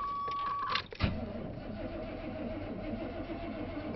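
A 1987 Chevy G20 conversion van engine starts with no gas, a brief starter whine before it catches with a thump, then settles into a smooth, steady idle heard up close.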